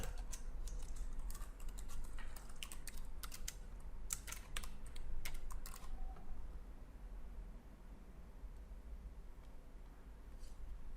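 A computer keyboard clicks in quick, close bursts as commands are typed into AutoCAD 2020, with a cluster of crisp keystrokes followed by a quieter stretch.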